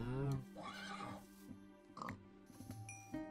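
A horse in the Minecraft video game whinnies with a short, harmonic neigh at the start, followed by softer game sounds while someone talks over it.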